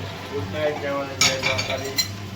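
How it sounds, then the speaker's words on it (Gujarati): Dishes and cutlery clinking as they are washed, a few sharp metallic knocks over faint running-water hiss. "હવે રાતે જો અગિયાર વાગે હા વાસણ ઘસવાનું કામ ચાલુ"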